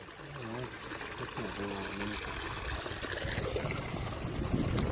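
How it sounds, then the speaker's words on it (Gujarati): Rainwater drains off a flooded village field in a steady, gently rising stream, with a few brief voice-like tones early on over the constant flow. "બાપુ જોઈ પાણી આવે છે"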